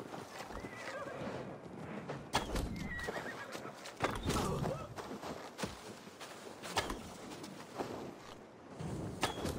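Horse neighing and hooves clip-clopping in the video game Assassin's Creed Valhalla, a steady stream of hoof steps with a whinny, over busy game ambience and birdsong.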